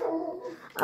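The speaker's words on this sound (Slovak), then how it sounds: "To bol môj pes." A pet dog gives one short, loud bark right at the end, just after a brief voice.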